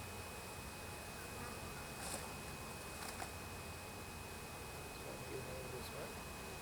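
Honeybees buzz around an open Flow hive in a dense, steady hum, with faint voices mixed in.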